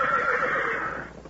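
Champion the wonder horse neighing in a loud, close whinny lasting just over a second, its pitch wavering before fading out, with nothing else heard.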